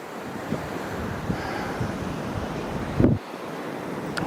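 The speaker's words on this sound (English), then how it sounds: "it's still really, really windy out" Strong wind rushes through trees in a blizzard, a continuous roaring gust with buffeting against the microphone and a sharp thump near the end.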